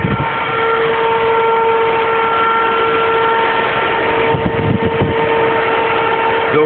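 Electric cooling fans running steadily on a Buick 455 Regal with a D&S Performance Stage-1 setup, a loud continuous whir with a tonal hum, close and unbroken throughout.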